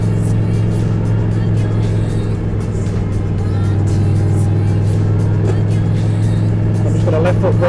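A turbocharged Toyota 1UZ V8 running on a Haltech Elite ECU, held under load by left-foot braking. It makes a loud, steady, deep engine drone for the whole stretch, with a slight rise toward the end.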